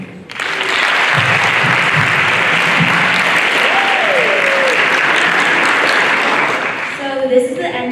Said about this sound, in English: can we just give another round of applause to our speakers?